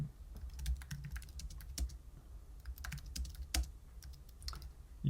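Typing a message on a computer keyboard, a quick irregular patter of close key clicks and occasional louder keystrokes, steady and continuous with no talking.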